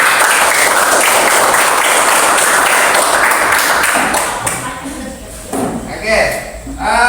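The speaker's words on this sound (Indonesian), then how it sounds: "Tepuk tangan." Classroom applause with steady, dense clapping from a group of students that thins out and fades toward the end, with voices mixed in underneath.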